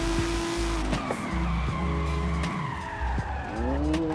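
A race car in Forza Horizon 5 brakes hard in a Mexico NASCAR-style race, tires squealing and skidding in repeated loud bursts over a steady engine drone.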